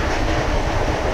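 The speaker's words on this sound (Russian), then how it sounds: "Вот я все-таки еду электричкой." Electric commuter train on a rural line, a steady loud rumble of rolling wheels and carriage noise heard from inside, continuous and without voices.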